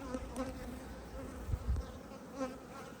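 Honey bees buzz steadily at a hive, a dense droning hum with individual bees swelling louder as they pass close, no talking.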